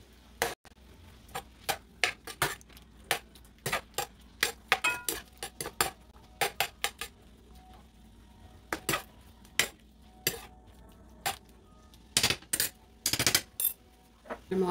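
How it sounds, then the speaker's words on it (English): Metal utensil clinking against a pan while garlic is stirred into a shrimp lo mein mixture, giving sharp irregular taps and scrapes, close up, with no talking. "So I'm gonna add the garlic to the mixture and stir"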